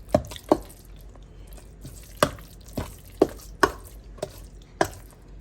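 Food being mixed in a bowl at home, with irregular wet knocks and stirring clatters spaced about half a second to a second apart, close and fairly clear, with no talking.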